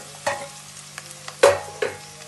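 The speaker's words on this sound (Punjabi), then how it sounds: "ਤੇ ਹੁਣ ਆਪਾਂ ਹਰੀ ਮਿਰਚ ਪਿਆਜ਼ ਇਹ ਸਭ ਕੁਝ ਪਾ ਦਾਂਗੇ ਵਿੱਚ" Green chilies and onion go into a hot pan for a pumpkin sabzi, already sizzling with garlic, and land with a few sharp clatters and stirring knocks over a low, steady fry.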